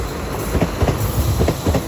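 A British Class 197 passenger train passes close by at Crewe on the West Coast Main Line, its steady rolling rumble carrying rhythmic wheel clicks over rail joints.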